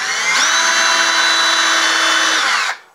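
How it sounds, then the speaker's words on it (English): A power drill bores holes through a wooden endplate for a FreeMo model railroad module, one loud, close, continuous whine that spins up, holds steady for about two seconds, then winds down. "so I know where to drill my holes through a little ways"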